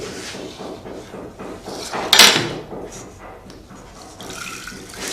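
Water is poured off soaked lentils from one vessel into another, a soft splashing trickle with one brief louder gush in the middle, close by and without talk.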